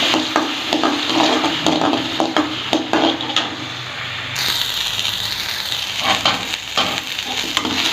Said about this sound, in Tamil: எண்ணெய் ஊற்றி வெங்காயம் நல்லா பொண்ணாக வர வரைக்கும் வச்சுக்கணும்